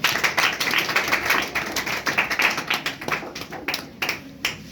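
Students in a classroom applaud a weekly-test prize winner at a prize distribution, a steady burst of many hands clapping close by, with rapid overlapping claps that thin out toward the end.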